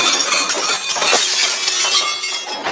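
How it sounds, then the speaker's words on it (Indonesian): A broken shelf dumps a whole stack of plates, which crash and shatter at once in a dense, loud burst of breaking crockery and tinkling shards in a film scene. "partisi rak tersebut patah yang mana seluruh piring-piring di atasnya jatuh dan pecah"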